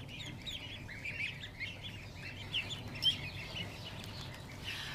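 Goslings peep and chirp softly as they are fed, a cluster of faint high twittering calls repeating over a low background hum.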